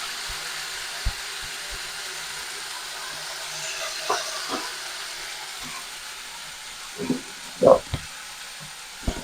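Fresh kalmi greens picked from a rooftop garden fry in a pan with a steady, soft sizzling hiss, broken by a few faint clicks and stirring knocks.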